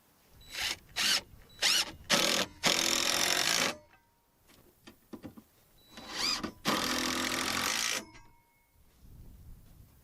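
A power drill driving deck screws through washers into Unistrut, several short whirring bursts followed by two longer, louder grinding runs, close up and separated by quiet gaps.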